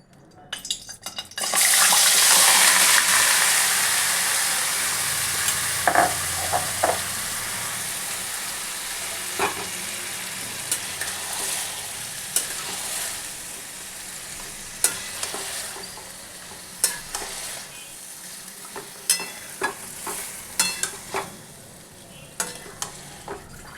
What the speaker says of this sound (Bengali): আমার তেলটা কিন্তু রেডি হয়ে গেছে এবার মাংসটা আমি এতে ঢেলে দিচ্ছি আস্তে আস্তে